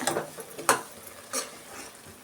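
Masala frying in oil in a pan for a village-style egg sambar, with short scraping stirs and light sizzling bursts, close and fairly loud, no talking.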